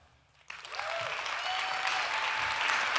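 Audience applause breaks out after a startup founder's first pitch at an early-stage venture competition finals, starting abruptly and holding steady as a dense, fairly loud wash of clapping.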